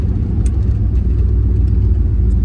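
A car with a 727 TorqueFlite automatic transmission and 276 camshafts pulls hard at full throttle, giving a loud, steady low engine rumble that holds constant throughout, with no voices over it.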